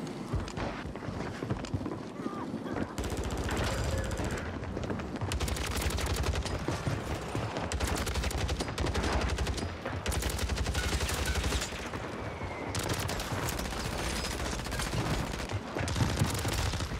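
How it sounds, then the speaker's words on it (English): Rapid automatic gunfire from a sentry gun in the shooter Warzone, bursting in long rattling strings with short pauses between them, loud and dense throughout. "Dude, sentry gun."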